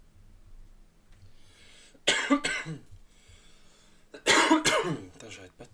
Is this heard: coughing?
yes